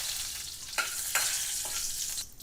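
Whole spices such as cinnamon, cloves, asafoetida, curry leaves, fenugreek seeds and broken dried red chillies sizzle steadily in hot oil in a pan, with a few sharper crackles and stirring scrapes along the way.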